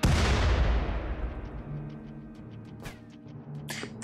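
Cannon fire from the video game RimWorld: a heavy boom opens loud and decays slowly, followed by sharper distant shots and bursts, with no talking.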